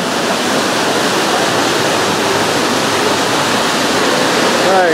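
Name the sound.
waterfall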